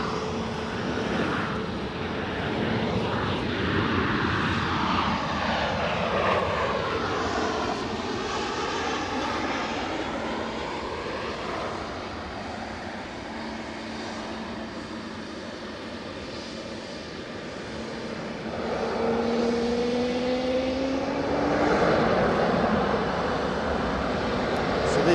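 A Ryanair airliner arriving from Berlin at Edinburgh Airport rumbles past, its engine roar broad and sustained, fading midway, then swelling again with rising whining tones near the end.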